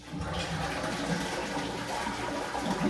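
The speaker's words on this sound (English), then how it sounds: "You flush it and then it just continues to run afterwards." A household toilet flushes, its tank emptying into the bowl in a steady, close rush of water that holds for the whole few seconds without pause or voices.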